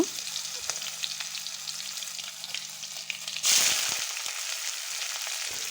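Green chillies fry and sizzle in hot oil in a pan, a steady crackling hiss that flares up louder partway through as they hit the oil, with no talking.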